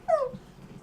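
A dog gives a single short, high whimper that slides downward, faint and close, followed by quiet low murmuring.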